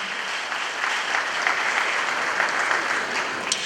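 Steady applause from an audience at a Supreme Court 150th anniversary ceremony, dense and sustained clapping at moderate loudness throughout with no voices over it.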